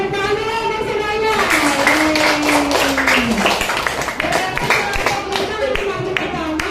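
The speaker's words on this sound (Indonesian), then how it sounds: "Oke, tepuk tangan dulu untuk semuanya." Primary school students in a sixth-grade classroom clapping together, a burst of scattered hand claps mixed with a teacher's voice and children's chatter.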